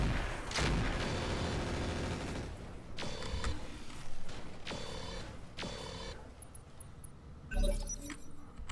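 Weapon fire in a tactical shooter game, a run of sharp bursts of shots spread across the clip with a ringing metallic tail, plus a heavier blast near the end, all fairly loud with no voices.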